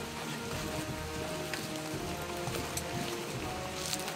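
Rain falls steadily, a dense even patter on surfaces with occasional louder drops, continuous and fairly close, no voices.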